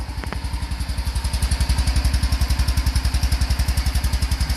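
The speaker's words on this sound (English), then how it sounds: "behind this cover is a one-cylinder 300cc 4-stroke engine" A one-cylinder 300cc four-stroke engine in a small microcar with chain drive and a tiny dual exhaust idles up close, its steady, rapid single-cylinder thumping growing slightly louder and even.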